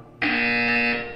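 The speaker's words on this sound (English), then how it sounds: "When you hear the buzzer, stare at the art." A loud, steady electronic buzzer from Portal 2, which starts abruptly and holds one harsh tone for about a second before fading slightly, with no voices over it.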